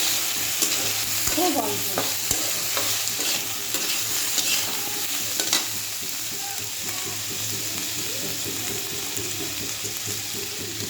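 Potatoes, already fried light red, fry in a pan with a little ginger-garlic paste, giving a soft steady sizzle with scraping stirs; a person speaks briefly over it.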